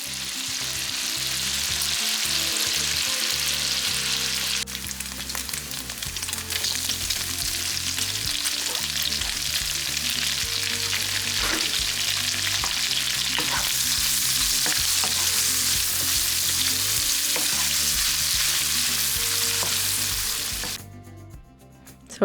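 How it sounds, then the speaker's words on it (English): About a pound of chopped bacon sautes in a pan, a loud dense sizzle with stirring crackles that holds steady for a long stretch before cutting off abruptly near the end, over faint musical background tones and without speech. "in this pan, I have about a pound of bacon going that I chopped up. I'm sauteing that"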